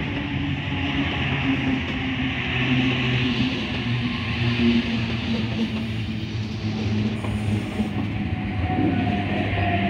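A commuter train idling and rolling at Wolli Creek station platform, with steady mechanical hum, rumble and faint clatter, loud and close throughout.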